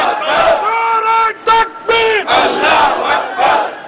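At a political rally in Faisalabad, a large crowd roars back in unison to a leader's slogan. Several loud chanted bursts follow one another in a call-and-response rhythm, each a massed shout with brief gaps between.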